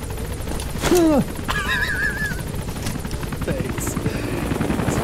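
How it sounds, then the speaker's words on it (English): A helicopter in the Metal Gear Solid V video game sounds as a steady, rapid rotor chop throughout, joined by a loud horse whinny near the start and brief game sounds. "The chopper can't touch down because of plot convenience."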